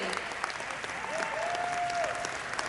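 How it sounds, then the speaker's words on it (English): A crowd at Sonic Expo Dallas 2025 claps steadily throughout, a continuous patter of applause, with a brief whistle-like tone rising partway through. "One last round of applause for Jack Henry."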